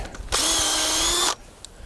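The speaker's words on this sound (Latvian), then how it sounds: "Sulu tecināšanai saimnieks izmanto pavisam pārastu saimniecības urbi, kokā veicot vien pāris centimetru dziļu urbumu" Ordinary farm power drill boring a shallow hole a couple of centimetres into a maple tree for sap, a loud close steady whine lasting about a second before cutting off, with outdoor background noise around it.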